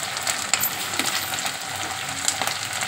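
Ginger paste frying in hot oil in a pan, a steady close sizzle with occasional spatula scrapes, alone without talk.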